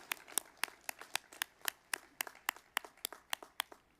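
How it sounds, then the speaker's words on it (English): A university commencement crowd claps in a fast, even rhythm, each sharp clap standing out distinctly and evenly spaced through the whole stretch. "give her that round of applause"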